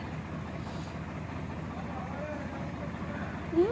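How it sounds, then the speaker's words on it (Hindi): A farm tractor pulling a trolley loaded with potatoes rolls into a village school yard, its engine a steady low rumble throughout, with a brief rising tone near the end and people talking over it. "ट्रैक्टर आ रहा है"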